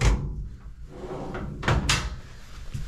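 A dresser drawer in a South Pole station berthing room slides open and shut with a couple of short wooden knocks and scrapes, close by.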